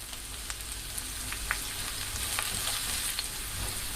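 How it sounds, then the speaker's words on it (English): Carrots sautéing in a frying pan for a chicken stir fry with vegetables, a steady close sizzle with light scraping and stirring, no voices. "Please saute the carrots until they start to soften a little."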